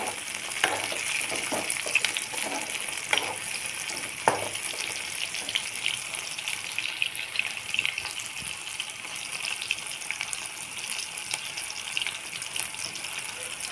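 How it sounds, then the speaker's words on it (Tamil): Dried red chillies fry in hot oil, a close, constant sizzle with scattered pops and clinks of a spoon pressing them down, no voice heard. "அதுக்காக தான் நான் எண்ணெய்க்குள்ளே அழுத்தி அந்த வரமிளகாயை விடுறேன்."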